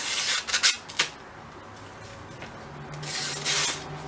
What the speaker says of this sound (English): It's definitely not as sharp as the rest of the blade, but it is still cutting.